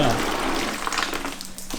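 Water drains out of an AE86 engine being pulled in a budget build, a close splashing, gushing flow that thins toward the end, with a person's voice over the running water.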